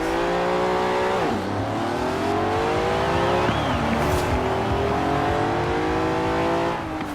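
Hot Wheels Twin Mill engine in Forza Horizon 4 revving hard, with pitch dropping at several slow gear changes before climbing again, loud and close throughout.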